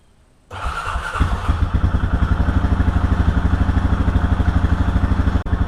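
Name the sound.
Honda 420 ATV engine starting for a test drive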